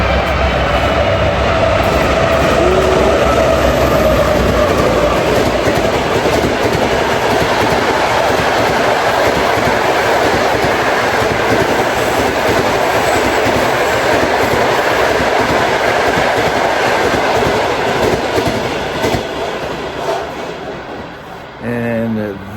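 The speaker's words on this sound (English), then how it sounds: "That train was the overnight train to St. Petersburg" The overnight train to St. Petersburg rolls past on the tracks near the line to Leningrad, a loud, sustained rumble with clickety-clack wheel rhythm that fades slightly toward the end.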